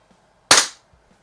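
A single sharp, close crack from a Beeman air pistol fired through a chronograph, a loud snap that decays quickly into near silence.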